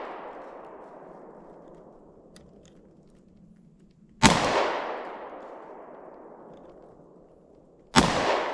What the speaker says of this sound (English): we're just going to fire a couple of rounds at the tree and see how good this light shines